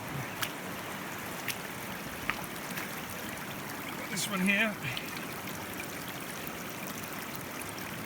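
A rocky creek in the East Kootenays of British Columbia flows with a constant soft rushing wash, fairly faint, while someone briefly speaks over it.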